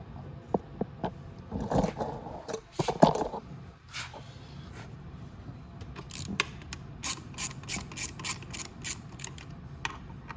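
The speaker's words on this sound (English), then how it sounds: "we just need to remove those two 10 mils right there" A ratchet wrench works two 10 mm bolts off the variator case of a Venom x22GT 250cc automatic motorcycle, giving bursts of rapid clicking and then a steady run of evenly spaced clicks, close up with no talking.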